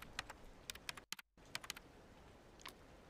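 Bursts of quick clacking keystrokes on a computer keyboard, close and fairly quiet, with a brief silent gap midway and a few isolated taps near the end; no talking.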